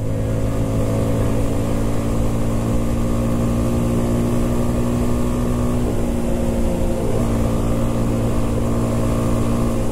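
An Italika Vort-X 250 motorcycle engine droning steadily while riding through curves, a loud close hum with wind rush and a slight dip in pitch midway, no voices.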